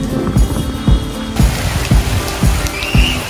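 Rain pours down in a steady broadband wash, with a few soft low thumps recurring roughly every half second beneath it, heavy enough to leave water standing everywhere.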